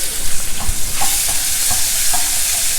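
Chopped onion being stir-fried with a pinch of hing in a pan, a loud, close, steady sizzle with soft scrapes of the spoon running through it.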